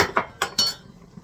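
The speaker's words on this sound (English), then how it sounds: "Take your sour cream and flour mix, dilute it with a ladle full of hot liquid from the soup" A metal ladle scoops hot liquid from a pot of bean soup, giving a few quick, close clinks against the pot before it goes quiet.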